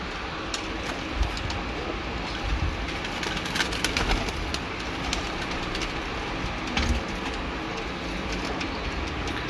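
Teddy breeder pigeons coo in soft, repeated low calls at irregular intervals, close by, over a faint background hum.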